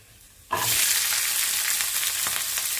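After a quiet moment, a burst of loud sizzling erupts as green chillies hit hot oil with ginger, then a steady, vigorous frying hiss continues.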